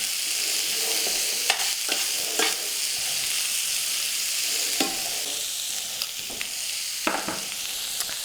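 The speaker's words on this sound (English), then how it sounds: "I can introduce the green beans now. And we're just looking to reheat the green beans." Green beans with bacon, garlic and shallots reheating in a pan, a steady close sizzle broken by scattered scraping stirs throughout, with no voices.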